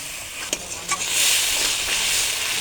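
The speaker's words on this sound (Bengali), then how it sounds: "এই যে সামান্য একটু মশলা বাটা জল দিয়ে মশলাটা কষে নেবে" Spice paste and water hit a hot pan for chicken curry, cooked with turmeric, salt and peas. A couple of clanks come first, then a loud, steady sizzle and hiss.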